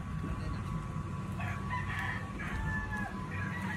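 A rooster crows near a village cockfighting area, several drawn-out calls rising over a steady outdoor hum and low background noise, with faint clucks in between.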